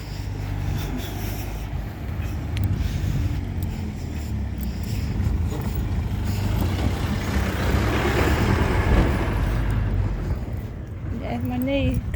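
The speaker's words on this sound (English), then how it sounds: "There's a John Warburton's lorry." A John Warburton's lorry passes along the street during a morning dog walk, its heavy engine rumble swelling and fading nearby over several seconds, with a person speaking over the traffic noise.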